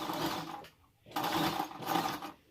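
A sewing machine stitching a cloth face mask runs in two loud bursts of rapid mechanical stitching, separated by a brief pause.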